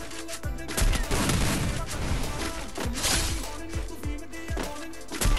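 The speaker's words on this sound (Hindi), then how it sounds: "भाई साहब AWM के हेडशॉट मार रहा है भाई ये बंदा" Rapid bursts of gunfire from an AWM sniper rifle and other weapons in a mobile battle game, dense and loud with sharp repeated cracks and crashes across the whole stretch.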